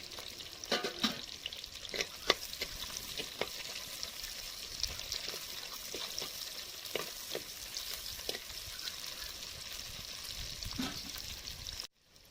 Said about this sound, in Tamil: இப்போ வெங்காயமும் பச்சை மிளகாவும் சேர்த்து நல்லா வதக்கி விடலாம்